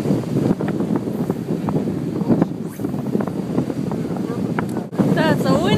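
Strong wind blowing outdoors on a Florida day, buffeting the microphone with constant rumbling gusts, close and loud.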